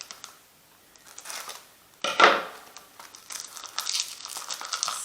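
Perfume box packaging being cut open with scissors, giving close crinkling and crisp snipping and tearing sounds in short bursts, with a louder crunch partway through and no talking.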